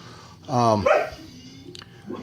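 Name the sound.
dogs barking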